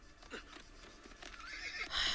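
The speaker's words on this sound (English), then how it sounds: "I took their horse." In the video game Assassin's Creed, a horse whinnies and neighs while hooves clip-clop. The sounds are close and moderately loud, and the neigh swells toward the end.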